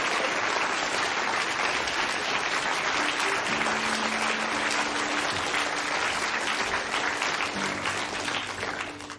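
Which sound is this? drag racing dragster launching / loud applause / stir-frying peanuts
loud applause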